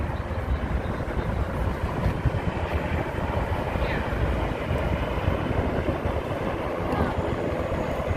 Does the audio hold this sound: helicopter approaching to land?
yes